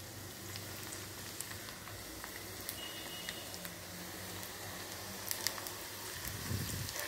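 Onion pakoda batter frying in a shallow pan of hot oil, giving a steady, fairly quiet bubbling sizzle with small crackles throughout and a slight swell near the end.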